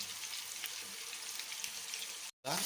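Masala-coated fish frying in a pan, a steady close hiss of hot oil sizzling continuously before a brief cut-off.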